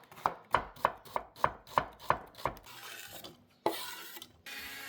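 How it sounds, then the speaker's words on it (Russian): An onion is finely chopped with a knife on a board for a samsa filling, giving about eight quick, evenly spaced crisp strikes, followed by softer scraping and rustling close by. "Берете мелко-мелко режьте лук."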